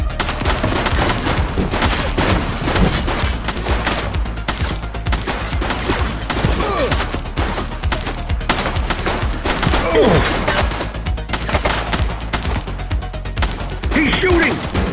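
Gunfire from a shooting suspect in The Precinct, rapid repeated shots in dense bursts throughout, loud and close, with voices shouting in between.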